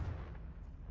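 A Confringo blasting spell goes off in Hogwarts Legacy, a heavy, booming explosion with deep low rumble filling the whole short moment, loud and close.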